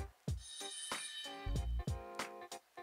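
A bright, ringing school bell chime from a Google smart speaker timer repeats in quick bursts, with clear metallic tones sounding briefly and fairly loud.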